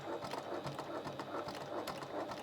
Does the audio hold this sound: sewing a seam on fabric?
yes